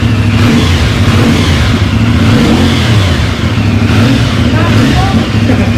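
CF Moto 450 NK motorcycle engine revving loudly up close, a dense continuous roar swelling and easing through a few throttle blips, with a voice talking faintly beneath.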